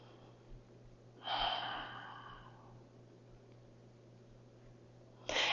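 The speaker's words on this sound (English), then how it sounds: "Close your eyes and breathe." Deep breathing during a full-body stretching session, one long audible inhale and exhale close to the mic, then quiet, with another breath starting at the end.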